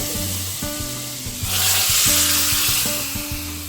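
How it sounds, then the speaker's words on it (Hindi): Loud hiss and sizzle of tempering spices hitting hot oil for Punjabi kadhi pakora, a burst of crackling midway over a low steady hum. "और कढ़ी में हम लगा देंगे तड़का"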